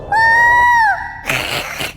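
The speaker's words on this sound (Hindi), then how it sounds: "तभी उल्लू चीखा" An owl's screech in a spooken story scene: a loud, sustained shrieking cry with harmonic bands, held for about a second and then falling off, followed by a burst of rougher noise.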